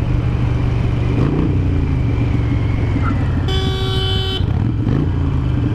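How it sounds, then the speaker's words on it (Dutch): Short horn blast from a Harley-Davidson motorcycle, a bright steady tone of just under a second over constant road and engine noise. "mijn toeter klinkt echt niet agressief genoeg"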